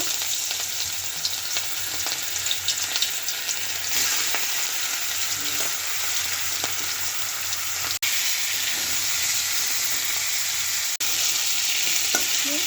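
Steady, dense sizzling of fish and fish head frying in hot oil with cumin seeds, loud and continuous throughout, with two brief dropouts near the end.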